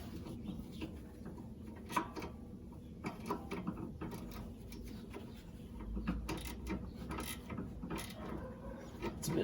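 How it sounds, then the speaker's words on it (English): A stubby ratcheting wrench tightening a sway bar end link bolt on a Honda Pilot, a run of quick, close clicking strokes in uneven bursts with faint birdsong in the background. "It's a bit tiring with a little stubby ratcheting wrench"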